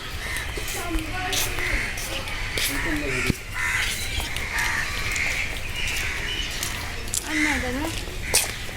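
Crows caw in harsh repeated calls at the Chittagong zoo, with people talking nearby and a few sharp knocks.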